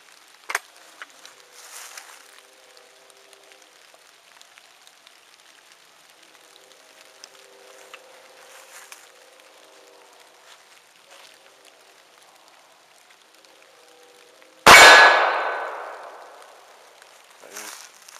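A single loud gunshot from a Century JW 2000 double barrel 12 gauge coach gun with a 45 Colt adapter, firing a 250-grain cast lead bullet; one sharp close blast with a decaying echo, after a quiet stretch of faint outdoor ticks and rustle.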